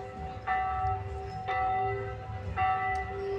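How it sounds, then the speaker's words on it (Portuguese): A small-town church bell rings three times, evenly spaced strikes with a lingering metallic hum, heard at a distance over low background rumble. "A cidade pequena é mais porque escuta o sino"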